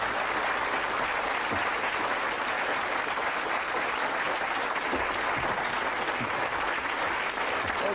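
Audience applause in a TV studio, a loud, continuous wash of many hands clapping that stays steady and even from start to finish with no talk over it.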